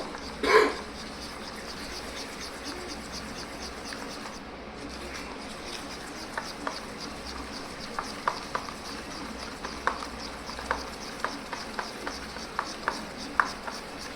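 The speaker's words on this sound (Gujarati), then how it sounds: "અને પછી તેને હલાવીને મિક્સ કરી લેશું." Cake batter for an Oreo chocolate cake, with milk and baking soda added, being stirred in a bowl: a run of light, irregular clicks and taps, growing steadier toward the end, close and fairly quiet.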